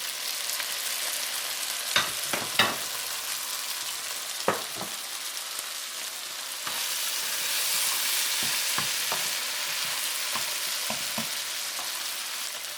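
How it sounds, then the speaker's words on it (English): Chicken sizzles in a pan as cooking wine is added, with a steady frying hiss that swells louder afterward and several sharp clinks of a utensil stirring against the pan. "And we're gonna put some cooking wine in it."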